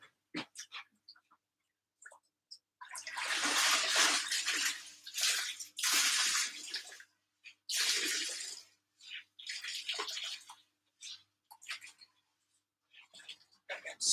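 Soaked fibre being wrung out by hand before dyeing, with several bursts of water splashing and streaming into a tub, separated by short pauses and scattered quiet handling noises.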